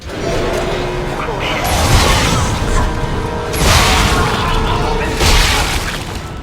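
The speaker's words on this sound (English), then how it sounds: "let's go ahead and see if we can't show off the line gun" Loud, heavy booming shots and mechanical clanks from the line gun in the Dead Space 2 video game, repeating a few times over dense game noise and rumble.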